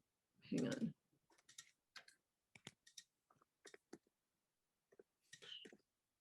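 Quiet, sparse clicks of computer keyboard typing during an online meeting, scattered irregular taps following a brief burst of sound, faint and close.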